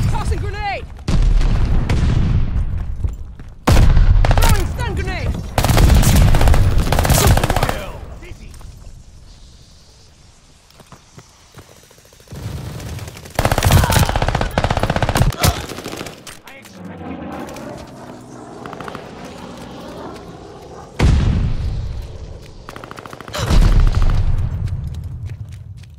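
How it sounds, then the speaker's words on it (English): Video game firefight with loud stun grenade blasts and bursts of automatic gunfire, repeated heavy volleys separated by brief quieter gaps, with a voice calling out over the action. "Grenade! Throwing stun grenade!"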